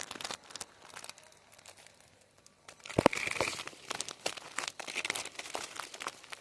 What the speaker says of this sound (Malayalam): ഇതിനെ ഇവിടെ നിന്ന് കീറാൻ പോകണം ഇങ്ങനെ കീറി